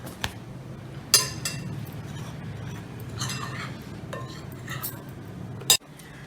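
A spoon clinks against a bowl while baking powder is stirred into flour for a dry fruits cake, with a few sharp metallic taps and soft scraping, fairly quiet and sparse.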